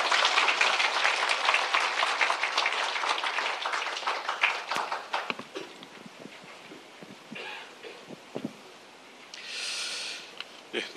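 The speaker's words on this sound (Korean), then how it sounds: "여러분 박수로 환영해 주시기 바랍니다." Audience applause welcoming a speaker at a public forum, a burst of many hands clapping that thins out midway into scattered claps and rustling, ending with quieter room noise and a brief breathy sound.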